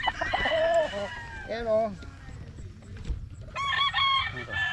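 Boston Roundhead gamefowl roosters crow and cluck close by, several drawn-out crows overlapping with clucking, while someone speaks briefly in between.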